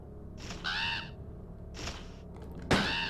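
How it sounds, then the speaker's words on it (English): Crows in Resident Evil 2's Claire Scenario A give three separate harsh caws, the last the loudest, with quiet pauses between them. "I hate the crows, and I'll always kill these suckers."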